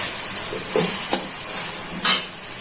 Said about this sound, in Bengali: যেহেতু চিংড়ি মাছগুলো ভাজবো তার জন্য দিয়ে দিচ্ছি